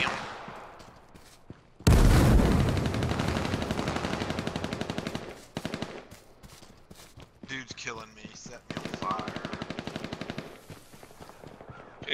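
Gunfire in the battle royale video game H1Z1 crackles in loud, rapid automatic bursts with short pauses between volleys, and a voice speaks briefly over the shooting.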